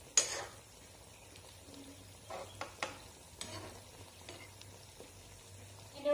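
Fish and bamboo shoots boiling in a pot with sour water are stirred with a few soft scraping strokes, the bubbling faint and close under quiet kitchen background.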